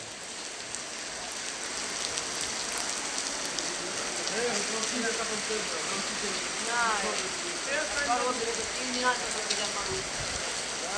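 Hail pelting down over a road and petrol pump forecourt during a violent storm in Bareta, a dense steady patter throughout, with a few louder knocks and brief voices in the background.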